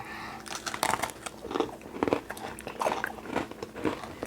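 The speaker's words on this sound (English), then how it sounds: "Let's put it back together and take a bite of everything all at once" Biting into Oreo cookies with Coca-Cola flavored filling: close, repeated crunches and crumbly chewing in an irregular rhythm, crisp and near with no talking.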